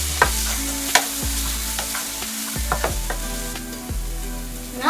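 Curry with cilantro powder and salt being stirred in a pan, a spoon scraping and knocking against the metal in irregular strokes over a soft continuous sizzle.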